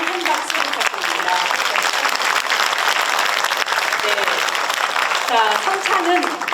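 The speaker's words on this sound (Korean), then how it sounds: "큰 박수 그리고 나 노브라 아시는들에게도 다시 한번 큰 박수 부탁드립니다" A theatre audience at a musical drama performance claps in sustained, dense applause. It fills the room evenly and some crowd murmur mixes in.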